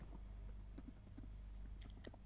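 Soft keystrokes tap irregularly on a computer keyboard while an SQL select statement is typed, faint clicks spread over a couple of seconds above a low steady hum.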